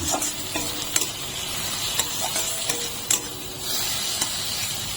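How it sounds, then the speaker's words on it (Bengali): Curry leaves, Kashmiri chilli powder and turmeric sizzle in a hot pan while a spoon stirs and scrapes, with a steady close crackle broken by sharp metallic taps. "এখন আমি সবগুলো ভালো করে নেড়ে নেব"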